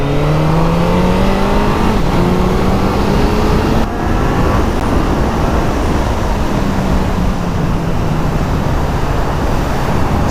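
A stock street fighter motorcycle accelerates hard, its engine note climbing steadily in pitch, loud and close throughout with no talk.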